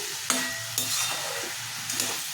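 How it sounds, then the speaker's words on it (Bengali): Grated coconut and ash gourd stirred in a frying pan, a continuous loud sizzle with scraping strokes of the spatula recurring every half second or so, no voices. "দিয়ে দিলাম দিয়ে আমি এবার দেখুন নাড়াচাড়া করছি"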